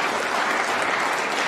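Sustained applause from a snooker championship crowd acknowledging a big break, a steady, dense patter of clapping hands with no speech over it.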